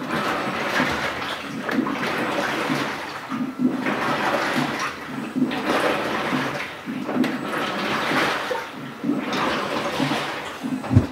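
GE Profile 700 Series top-load washer on a quiet wash, running a hot water cycle with white vinegar, sloshes and churns water in repeated surging waves a couple of seconds apart.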